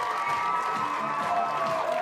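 A football crowd at a women's A-League match in Canberra cheers loudly and steadily after a home goal, a dense continuous roar with no break throughout.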